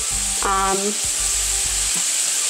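Kale sautéing and wilting in a hot pan, giving a close, continuous sizzle broken by a few short scraping strokes, with some low tonal rasps at intervals.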